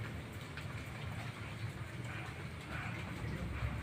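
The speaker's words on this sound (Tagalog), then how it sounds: "Pabugso-bugsong ulan, minsan titigil." Steady morning rain in a wet, drizzly spell with some sun, falling in a continuous hiss and patter on surfaces, moderately loud and unbroken, with no voices.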